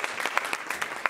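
Audience clapping after a poem at a college spoken-word performance, a modest crowd with individual sharp claps standing out in an uneven, patchy rhythm, fairly close and moderately loud.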